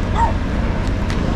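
Dogs bark and yip near a house at the far end of a lane by a factory, short sharp calls over loud outdoor background noise, with voices nearby.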